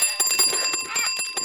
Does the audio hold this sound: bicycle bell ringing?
yes